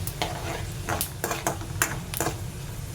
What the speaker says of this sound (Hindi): इसको आप मिक्स कर लीजिए अच्छे से।